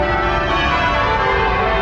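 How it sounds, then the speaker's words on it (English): Church bells of Westminster Abbey in central London ring out in celebration, a dense, loud wash of overlapping peals that carries steadily through the whole moment with no voices. "bells of Westminster Abbey ringing out in celebration"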